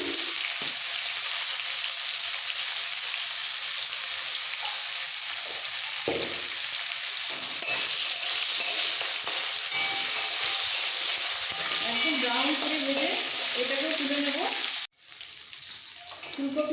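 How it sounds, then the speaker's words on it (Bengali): Steamed cauliflower frying in a pan with a steady loud sizzle throughout, brief stirring scrapes and faint voices, ending in an abrupt cutoff near the close. "ভাপানো ফুলকপি খুব সুন্দর তাড়াতাড়ি কালারটা এরকম লাল করে ভেজে তুলে নিতে হবে"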